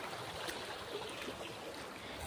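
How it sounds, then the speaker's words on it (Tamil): Steady rushing of water flowing past a check dam, a constant close wash of noise with no pauses. "தண்ணி பாட்டுக்கு அது பாட்டுக்கு போயிட்டுருக்கு"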